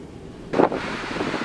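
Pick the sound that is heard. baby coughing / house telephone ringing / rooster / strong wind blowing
strong wind blowing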